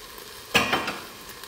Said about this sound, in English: that thing is sizzling